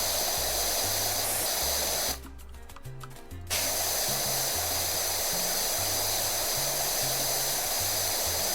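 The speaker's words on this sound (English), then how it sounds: "I will make sure to spray." A pressure washer sprays steadily in the video game PowerWash Simulator 2, a loud continuous hiss that cuts out for about a second before resuming, with soft background music underneath.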